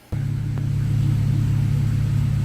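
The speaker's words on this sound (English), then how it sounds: "All right, truck's running." A Dodge Ram truck's Hemi 5.7 V8 idles steadily and close by, a low constant rumble with an even hum that holds for a couple of seconds after the engine catches.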